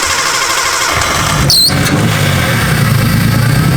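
A big-turbo Nissan Skyline with an RB engine cranks at full throttle with a misfire on cylinder two, a loud continuous starter-and-engine roar with a brief high squeal partway through, no talking.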